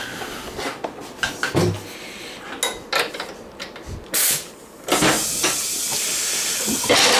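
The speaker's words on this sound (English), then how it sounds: "compressor will kick on when I go to do it" Air compressor hose in a motorcycle workshop hissing, a sustained broadband rush of air that starts partway through and holds steady to the end, preceded by scattered short bursts and clunks.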